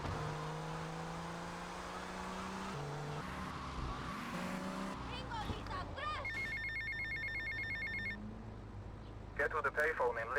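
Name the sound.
payphone ringing in video game GTA Vice City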